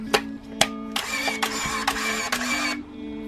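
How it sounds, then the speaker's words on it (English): A Pentax SF10 film camera advances the film to frame one by itself: a couple of sharp clicks, then a close, steady mechanical whirr in several bursts lasting about two seconds, with no talking. "automatically the camera will goes to frame number one"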